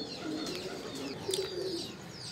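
Teddy breed pigeons in a loft coo softly in low, throaty rolling notes over a constant bed of background noise, with faint chirps above and no talking.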